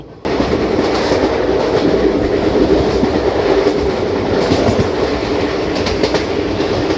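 A Mumbai–Kolhapur Koyna Express train crosses on the line between Jejuri and Rajewadi in Maharashtra, a loud, steady roar of wheels with a rhythmic clickety-clack running close by for the whole stretch.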